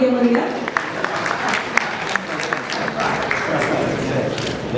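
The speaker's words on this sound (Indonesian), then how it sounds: "Kita berikan tepuk tangan sekali lagi yang meriah" An audience at an award ceremony in Aceh applauds, a dense steady patter of many hands that stays even throughout, with a voice speaking over it at the start.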